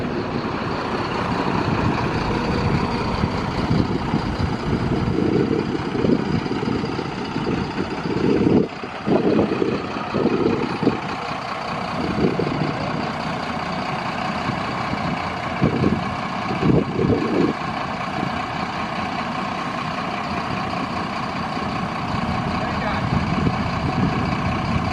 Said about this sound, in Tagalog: Ayan yung bus nila.